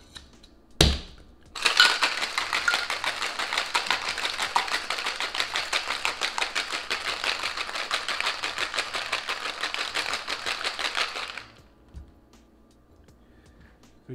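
Vodka cocktail being shaken hard in a cocktail shaker with ice, a loud continuous rapid rattle lasting about ten seconds after a single knock, with no talking.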